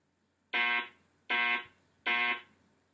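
A Wheelock fire alarm sounds in a code 3 pattern: three identical harsh electronic horn blasts evenly spaced, close and alone against quiet.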